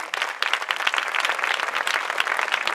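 Enthusiastic audience applause at a live stand-up comedy show, many hands clapping in a dense, sustained burst with a few sharper individual claps.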